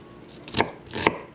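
A knife chops onions on a small cutting board in two crisp, close knocks about half a second apart, with quiet room tone between and no talking.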